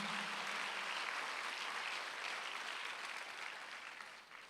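Church congregation at a Sunday worship service applauding, a steady wash of many hands clapping that holds for several seconds and then gradually fades, heard at a distance and fairly faint.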